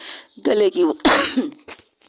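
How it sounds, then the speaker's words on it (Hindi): A person coughs in several harsh, voiced bursts close by, with throat-clearing sounds between the fits. "खांसी रुकने का नाम नहीं लेती, किश्त किश्त में खांसी आ रही है।"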